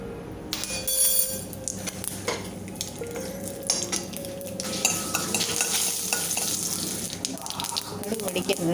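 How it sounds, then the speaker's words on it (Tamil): Crackling, spitting sizzle of mustard seeds popping in hot ghee, with a steady bubbling hiss and occasional stirring clinks, close up. "கடுகு வெடிக்கிறது."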